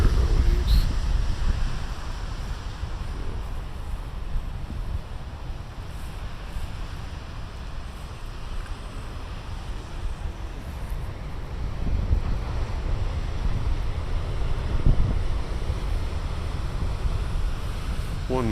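Big ocean waves crash and surge in a steady, loud roar, with wind gusting against the microphone throughout and no one talking.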